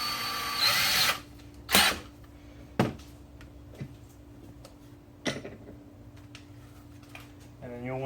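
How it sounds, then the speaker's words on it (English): A power drill fitted with a 5/32 inch bit bores a pilot hole down through the middle of a cap while making a homemade pinch block and loading pin. Short bursts of drilling sound up close, separated by pauses. "And then you'll want to drill the pilot hole down through the middle of the cap."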